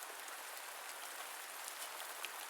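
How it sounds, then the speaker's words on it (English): Soft, steady rain falls evenly and gently throughout, a quiet continuous patter with no voices or other sounds over it. "the gentle sound of the soft rain starts to fall"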